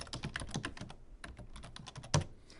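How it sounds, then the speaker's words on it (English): Close, fairly quiet typing on a computer keyboard while creating a blog page, with quick irregular clusters of keystrokes, brief pauses and one sharper key hit near the end, and no talking. "I'll type something."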